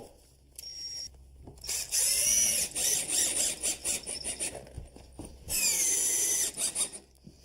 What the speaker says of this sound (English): Take a couple of screws to hold it into position so it doesn't move around.